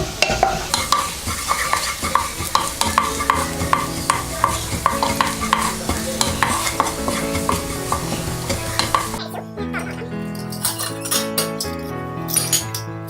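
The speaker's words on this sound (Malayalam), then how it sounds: "നമ്മൾ എടുത്ത് വെച്ചിരിക്കുന്ന പൊടികൾ ചേർത്ത് കൊടുക്കാം. നന്നായിട്ട് മിക്സ് ചെയ്യാം." Spice powders stirred into frying masala in a pan for a bottle gourd dal, with a constant close sizzle and repeated scraping and clinking of the spoon against the pan, busy at first and then quieter.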